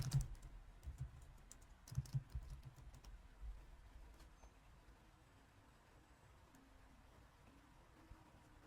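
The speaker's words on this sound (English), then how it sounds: "So now maybe we can try to type our organization name" Fingers type on a computer keyboard nearby in quick bursts of soft clicky keystrokes, then thin out into a few scattered taps in a quiet room.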